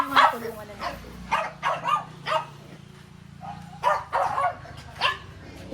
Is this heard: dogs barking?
yes